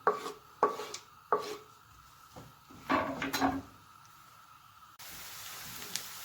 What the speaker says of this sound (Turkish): Kuru soğanımızı küpler halinde doğrayalım.